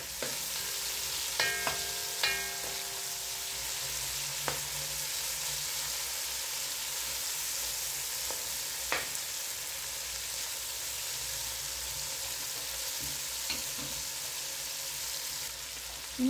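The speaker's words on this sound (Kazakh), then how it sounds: "Мінекей пиязымыз кішкене қызарып қуырылды." Onions and meat fry quietly in a pan, a soft continuous sizzle with a few scattered clicks and taps of a utensil against the pan.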